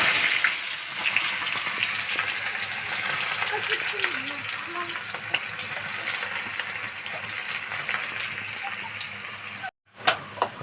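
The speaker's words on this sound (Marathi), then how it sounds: "तेल चांगलं गरम झालेलं आहे. आपण चिरलेला कांदा टाकूया." Chopped onion sizzles steadily in hot oil for pav bhaji, a loud continuous hiss close up that runs almost unbroken before a short pause near the end.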